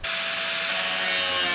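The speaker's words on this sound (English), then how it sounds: "this cut pretty well with the flat with the cutoff wheel" A cutoff wheel grinds steadily through a sheet-metal panel on a 2022 Ford Transit van, giving one loud, continuous abrasive rasp that runs without a break, close up.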